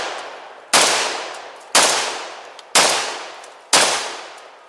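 Fire-damaged, restored Remington 1100 semi-automatic shotgun firing number 4 shot loads: four loud, sharp blasts about one second apart, each followed by a decaying echo tail, with no talk.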